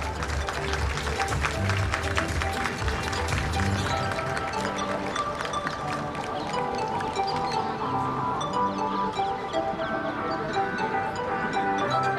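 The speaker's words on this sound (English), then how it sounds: "please give them a huge round of applause" Continuous applause from a large crowd at a school athletic meet fills the space, a dense, even wash of clapping that holds steady throughout without pause.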